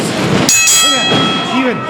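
A bell strikes at a professional wrestling match, a bright metallic clang ringing out near the start, its tone lingering under crowd noise and a commentator's voice.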